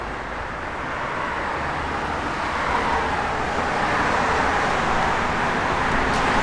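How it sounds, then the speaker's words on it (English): A 1964 Chevrolet Malibu with a 4-speed and Flowmaster dual exhaust, heard as a steady low rumble with broadband road-like noise that swells slightly midway, moderately loud and continuous with no voices. "Sounds good. Flowmaster dual exhaust."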